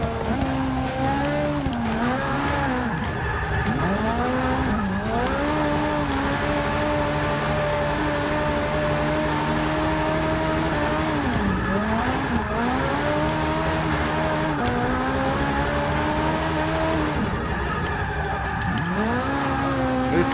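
A 2014 BMW M235 drifting around Stadtplatz Circuit in Forza 6, with engine revs rising and falling in repeated sweeps and long tire squeals through each slide, loud and continuous.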